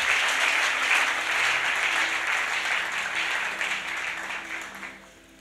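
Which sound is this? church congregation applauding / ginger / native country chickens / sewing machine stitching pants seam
church congregation applauding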